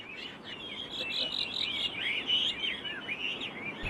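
Wood thrushes sing, a run of bright, warbling phrases repeating steadily at moderate distance over a low hum of background noise.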